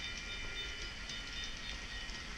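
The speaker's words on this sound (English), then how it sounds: "So here comes the train we were just using before." A railroad train rolls steadily over a crossover, giving a continuous rumbling, hissing wheel noise without clear breaks and with no voices.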